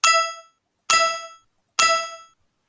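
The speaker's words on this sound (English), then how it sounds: "I hear the collect sound." The collect sound effect in a Scratch game rings out three times in an even rhythm, each a bright metallic ding that decays quickly into silence.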